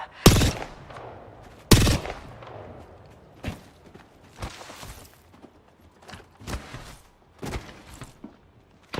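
Gunfire in the video game Apex Legends, a handful of sharp separate shots spread across the moment with quieter rattles between them, moderately loud and sounding alone.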